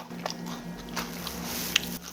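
Quiet, crisp bites and crunching as a crusty whole-wheat loaf made with fermented okara is chewed, with one sharper crack near the end against a faint background hum.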